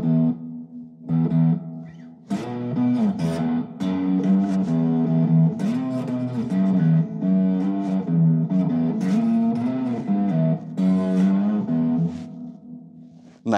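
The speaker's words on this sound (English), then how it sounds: "Let's try the green setting in reverb." Electric guitar played through a small Fender amp on its green reverb setting, sustained chords and single notes ringing with a wash of reverb, alone with no talk.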